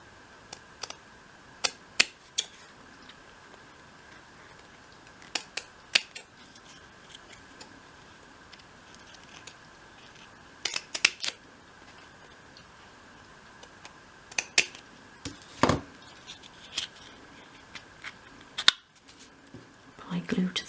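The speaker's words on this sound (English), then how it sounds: "And then at the front and back just trim off at a little bit of an angle." Scissors trim the card flaps of a 1/12 scale shop model at an angle, giving sparse, sharp snips and ticks scattered across a quiet room, a few louder cuts standing out near the microphone.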